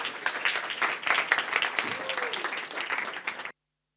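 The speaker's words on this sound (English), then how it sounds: "Please, big round of applause for Jennifer." Audience applause at a Romanian startup showcase conference, a dense round of clapping lasting a few seconds with a voice briefly heard over it before it cuts off.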